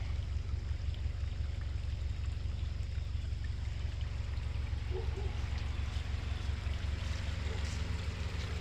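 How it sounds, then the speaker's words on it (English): Creek running high after flooding, a steady broad rush and trickle of water close by that continues unbroken, with no talk. "and this creek right here would be considered up right now."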